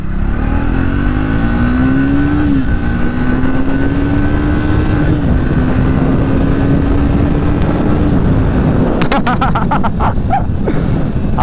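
A Triumph Speed 400 motorcycle pulls hard on a test ride, its loud engine and exhaust rising in pitch through each gear and dipping briefly at the shifts, with wind rush throughout.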